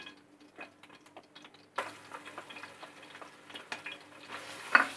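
Ginger garlic paste drops into a pan on low heat and fries, a quiet crackle that jumps to a louder sizzle partway through, with light ticking and stirring taps.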